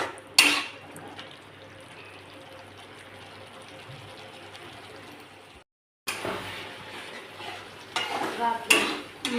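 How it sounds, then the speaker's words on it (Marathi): Spicy misal masala being stirred in a pan, soft continuous sizzling with spoon scrapes and clinks against the metal, a short silent gap, then louder stirring toward the end. "छान मिक्स करून घ्या."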